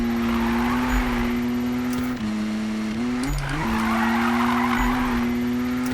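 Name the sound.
car handbrake skid in the video game Need for Speed 2015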